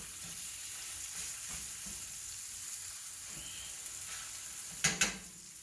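Sausage browns over medium heat in a pot for sausage and shrimp gumbo, a quiet, steady sizzle up close, broken near the end by two sharp metallic clanks of cookware.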